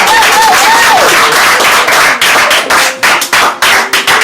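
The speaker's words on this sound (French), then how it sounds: "Est-ce qu'on peut acclamer le Seigneur? Oh, les acclamations là." A church congregation at a Paris worship service claps loudly and cheers, with voices calling out over dense, close applause. The noise breaks into rhythmic claps toward the end.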